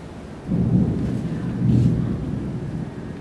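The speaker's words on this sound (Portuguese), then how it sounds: "Escutei um trovão e passos atrás de mim" Low rumbling thunder in a stage play, two swelling rolls that rise and fade over steady broadband noise.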